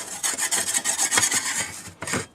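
Gasket material being peeled and scraped off a new Lennox furnace fan, a close, dry rasping tear in uneven bursts that stops briefly before one last pull.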